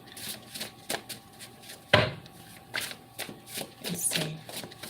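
Tarot cards being shuffled during a reading, a run of quick papery riffles and slaps in uneven bursts with one sharper clack partway, close and moderately quiet, with no talking.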